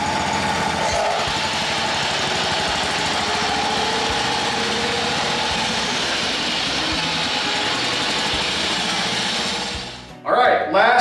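A ranch tractor's engine runs steadily and loudly as it is driven out, a dense continuous rumble with clattering mechanical texture that cuts off abruptly near the end, followed by a few brief knocks.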